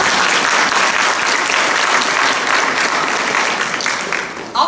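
A lecture audience bursts into loud, dense applause that holds steady for several seconds before thinning out near the end.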